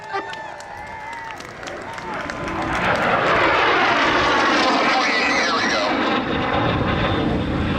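At an air show, a fixed-wing airplane makes a high-speed pass, its engine roar swelling from faint to loud and holding strong with a sweeping pitch shift as it goes by, with crowd noise beneath.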